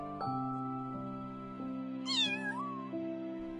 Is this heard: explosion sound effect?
no